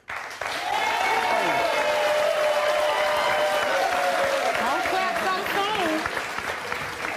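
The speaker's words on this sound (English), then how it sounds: "Don't clap so soon." Sustained applause from a large television talk show studio audience, loud and steady for several seconds, with cheering voices mixed into the clapping.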